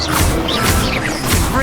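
Dense crashing and whooshing spell impacts from combat in Hogwarts Legacy, loud and continuous across the short burst, with stupefy and incendio attacks blending into a busy wash of game effects.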